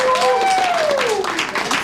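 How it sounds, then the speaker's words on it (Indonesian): An audience at an office meeting claps and applauds steadily, with a speaking voice clearly audible over the clapping. "Tepuk tangan dong."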